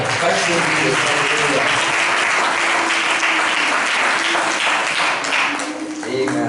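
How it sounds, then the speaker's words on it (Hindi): A congregation at a Hindi church service bursts into loud, dense clapping, a continuous roar of hands that stays strong throughout, with faint voices and tonal sounds beneath it. "बार फिर से हम प्रभु को महिमा की जोरदार ताली बजाकर"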